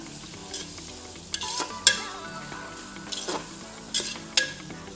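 Tomato dropped into a hot pressure cooker for chicken biriyani, giving a steady close sizzle of frying with scraping stirs and a few sharp metallic clinks of the spoon against the pan, no voices.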